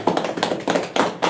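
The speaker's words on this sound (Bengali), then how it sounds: "হাততালি" A short burst of hand claps at an academy felicitation ceremony, with several uneven claps close by in quick bursts and no talk over them.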